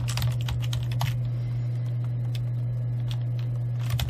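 Typing on a computer keyboard, rapid irregular key clicks in bursts with a short pause midway, close and clear over a steady low hum.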